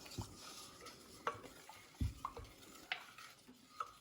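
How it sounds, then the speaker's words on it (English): Melted butter mixture is stirred slowly into madeleine batter, giving quiet scrapes and several light clinks of a utensil against the bowl, spaced irregularly, close but faint with no talk. "And slowly stir it in."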